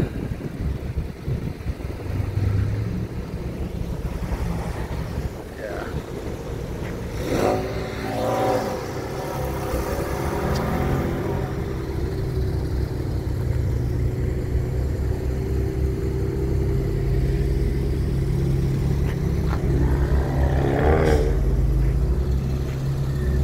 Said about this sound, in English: I literally just got over here to start filming the Porsches, and a few of them are leaving.